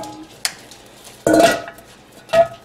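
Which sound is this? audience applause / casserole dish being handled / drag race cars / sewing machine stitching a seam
casserole dish being handled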